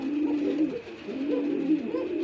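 A pigeon on a pigeon farm coos in repeated soft, throaty rolls, close and clear, continuing steadily with no talk over it.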